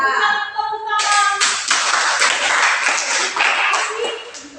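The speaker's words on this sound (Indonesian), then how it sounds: "Berikan tepuk tangan." Students in a classroom clap for a classmate after a presentation, a close burst of hand clapping that follows a brief tonal voice or beep and continues for several seconds.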